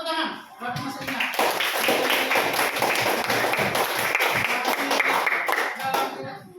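Classroom of students clapping together after a teacher's prompt, a burst of quick overlapping claps swelling quickly, holding steady, then stopping, with brief voices at the edges.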